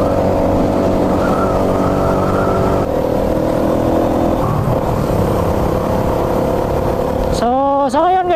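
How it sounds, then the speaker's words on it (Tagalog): A Rusi motorcycle engine with an open carburetor runs loud and steady at close range, a constant throbbing drone with a brief rising rev near the end while a voice talks over it. "motor mo pala Rusi, kaya ang lakas"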